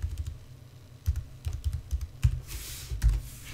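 Close keystrokes on a computer keyboard come in quick irregular bursts, with a brief louder flurry near the end and no talk.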